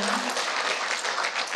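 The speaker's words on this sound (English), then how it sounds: "so a big applause for him." A conference audience applauds in a brief burst of steady, dense clapping, fairly close and without voices on top.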